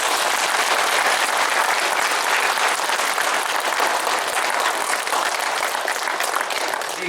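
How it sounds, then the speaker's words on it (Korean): Dense, loud applause from a seated audience at a public report meeting in Korea, close and continuous for several seconds with no break. "참석자들에게 박수를 보내주십니다."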